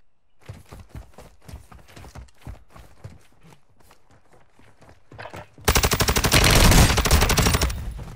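Gunfire in Call of Duty: Modern Warfare II: a run of separate, crisp shots in an uneven rhythm, followed by a sudden loud, sustained burst of rapid fire at close range.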